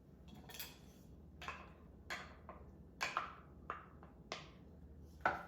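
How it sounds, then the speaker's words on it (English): Greek yogurt being mixed in a bowl, heard as a quiet, irregular series of spoon clinks and scrapes against the dish, close up with roughly eight distinct taps over several seconds and no talking. "we are going to mix half a cup of our Greek yogurt"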